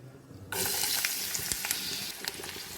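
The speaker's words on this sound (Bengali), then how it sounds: "এবার এতে পেঁয়াজটা দিয়ে দেবো আমরা।" Onions drop into hot oil in a pan for chana masala, setting off a loud, steady sizzle that starts abruptly and keeps crackling with occasional pops and stirring scrapes, close up with no talking.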